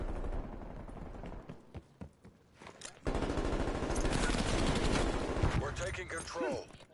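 Gunfire rattles in Call of Duty: Cold War: scattered shots, then a loud sustained burst of rapid automatic fire, with voices speaking underneath.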